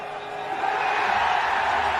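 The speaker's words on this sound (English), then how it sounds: "Big cheer from the stands." A cricket crowd in the stands at an India versus England one-day international roars and cheers, a broad, sustained wash of many voices at a distance.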